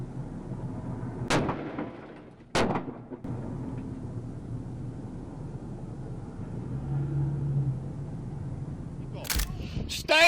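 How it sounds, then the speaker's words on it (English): Gunshots ring out during a police pursuit: a couple of sharp, loud cracks early on, then a tight burst of shots near the end, over a low vehicle rumble with shouting voices in between. "shots fired. Shots fired."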